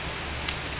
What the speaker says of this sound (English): it's now raining and it's coming down. It's pouring